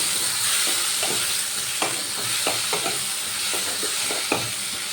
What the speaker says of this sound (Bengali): এবার এই পোস্ত বাঁধাটা দিয়ে ভালো করে কষিয়ে নেব